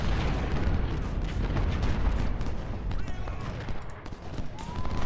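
Cannon fire in Ultimate General: Civil War, with a steady barrage of booms and rumbling artillery blasts rolling continuously in the background of a battle, fairly loud and sustained with scattered sharper cracks.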